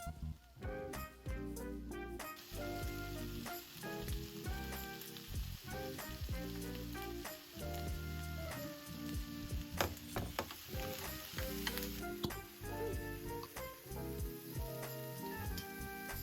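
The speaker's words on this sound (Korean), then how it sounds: "토마토가 물러질 때까지 볶아줄 거예요. 썰어 놓은 버섯도 같이 볶아줬어요." Tomatoes and sliced mushrooms stir-fry together in a pan, a faint, continuous sizzle broken by scattered clicks and taps from stirring.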